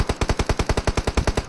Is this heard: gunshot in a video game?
yes